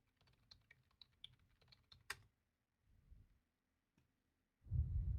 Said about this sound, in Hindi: पासवर्ड एंटर करते हैं।